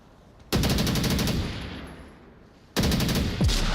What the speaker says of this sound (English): Kedger finds a headshot with the AK-12